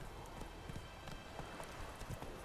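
A horse gallops in The Witcher 3, its steady clip-clopping hoofbeats repeating quietly under a faint, low background bed.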